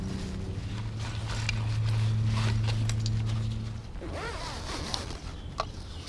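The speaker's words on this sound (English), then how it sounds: "And there's a zipper." A zipper rasps along for a few seconds over steady low background hum, followed by fainter rustling and small clicks.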